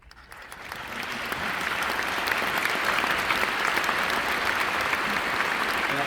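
Applause from a large conference audience honours the volunteer subcommittee chairs and assistants. It swells quickly from a few claps into a sustained, even roar that holds steady.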